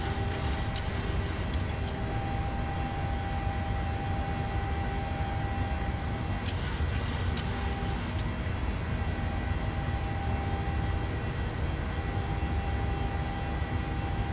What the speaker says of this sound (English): This plane is loud.